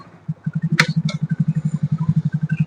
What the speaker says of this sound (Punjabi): ਮੋਟਰਸਾਈਕਲ ਆ ਗਿਆ ਸਾਈਡ ਤੇ